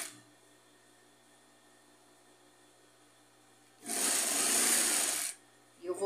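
A sewing machine stitches a rug made from leftover fabric strips, running in one loud, close burst of about a second and a half after a quiet stretch, then starting briefly again at the end.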